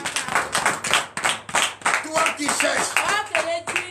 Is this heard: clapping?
yes